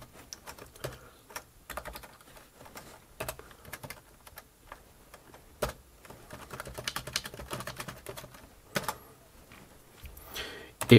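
Keys clack on the keyboard of a Brother SuperPowerNote Z80 laptop in uneven bursts and pauses, close and fairly quiet, with occasional louder taps over a low background hum.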